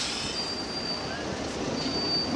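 City tram passing on a street in Gothenburg, with a steady rolling rumble and thin high wheel squeal drawn out over the rails, fairly close and continuous.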